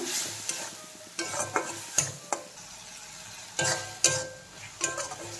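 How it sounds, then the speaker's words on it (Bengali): A ground spice paste with a little water is stirred and sautéed in a pan, a soft sizzle under repeated scraping strokes of a spoon, each stir a sharp close scrape with pauses between. "দিয়ে ভালো করে মশলাটা কষিয়ে নেব।"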